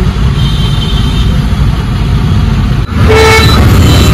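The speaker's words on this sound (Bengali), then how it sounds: "কত জ্যাম।" Dense road traffic in a jam at a busy crossing, engines idling and rumbling steadily, with a horn tooting loudly near the end over the continuous vehicle noise.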